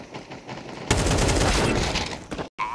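Pistol fire from a P250 during a Counter-Strike match on the Ancient map, a dense burst of sharp shots and game action lasting over a second, loud and close, then a brief cut before more activity.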